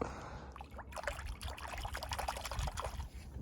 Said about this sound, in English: I'm gonna touch Crystal Lake water